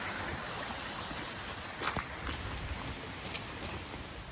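Waterfalls flow at the back of a hotel along a trail in Branson, Missouri, a soft, distant, continuous rush of falling water with a few light knocks and rustles near the middle.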